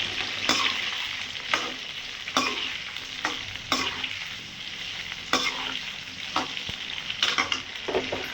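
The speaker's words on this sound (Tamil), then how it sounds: "இந்த கத்திரிக்காவை அப்படியே எண்ணெயில் ஒரு கட்டுங்க" Brinjal pieces fry in hot oil with a constant close sizzle, broken by sharp, regular clacks and scrapes as the pan is stirred every second or so, with no voices.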